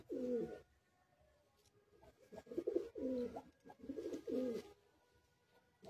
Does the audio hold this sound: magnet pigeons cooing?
yes